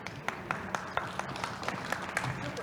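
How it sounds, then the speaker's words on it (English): Audience applause from a standing crowd at the AFOA BC 2019 gathering, a moderate, steady patter of many hands clapping with distinct sharper claps scattered through it. "Round of applause."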